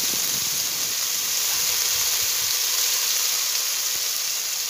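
Steady hissing sizzle as a little water hits a hot curry pan, continuous and even throughout with no talk.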